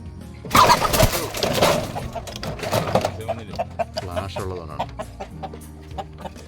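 Fighting-breed chickens cluck and squawk close by on a farm in irregular bursts, louder at first then settling into scattered clucks, with some clattering noise.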